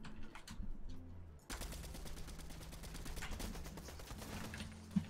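Rapid gunfire sprays toward the player in a first-person shooter, a dense, steady stream of shots from about a second and a half onward, with quieter ambient game sound before it and a sharp louder crack near the end.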